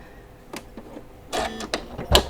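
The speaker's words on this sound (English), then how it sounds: "we're going to go ahead and put our presser foot down and we're going to go ahead and start sewing" Sewing machine stitching split suede leather, short mechanical bursts of whirring and clacking separated by pauses, with a louder thump near the end, close and alone.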